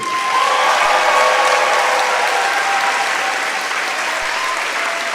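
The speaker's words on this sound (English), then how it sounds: "I want you to clap for each of them, okay?" Loud, sustained applause from a crowd at the opening ceremony of the People's Summit for Korea, dense clapping with light cheering mixed in and no pause.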